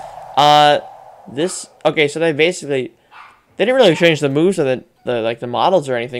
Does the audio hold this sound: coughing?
no